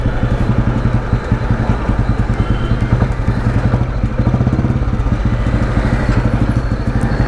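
An old Royal Enfield Bullet motorcycle riding in third gear, its single-cylinder engine thumping in a loud, steady, rapid rhythmic beat, close up throughout without talk.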